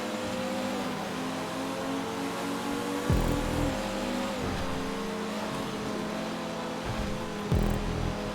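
A car engine in a GTA5 online street race roars steadily in the foreground, with revving surges and gear shifts breaking the drone.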